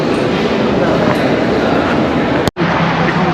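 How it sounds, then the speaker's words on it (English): Busy Warsaw metro station ambience: a steady broadband hum and rumble with a crowd murmuring throughout, broken by one brief sharp dropout near the end. "so it's a nice train station, I must say."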